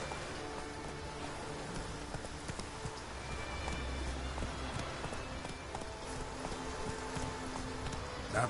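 Roach, the horse in The Witcher 3 game, gallops in a steady rapid clip-clop of hooves over a constant rainy hiss, fairly faint and with no talking.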